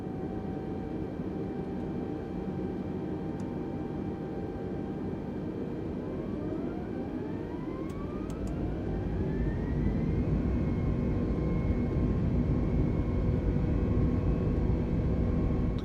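An Airbus airliner flying in the video game Microsoft Flight Simulator, a steady, loud engine roar and rumble with whining tones that sweep upward as thrust builds, heard alone without talk.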